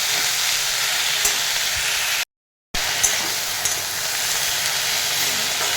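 Greens frying hard in a pan with onion and dried chilli, a loud steady sizzle that fills the clip, broken once by a brief cut to silence before carrying on unchanged.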